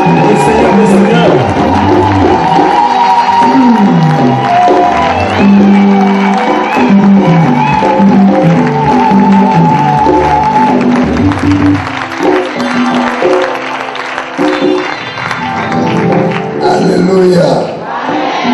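A church congregation cheers and applauds loudly with shouts and whoops, a dense crowd roar mixed with music and voices that stays strong throughout.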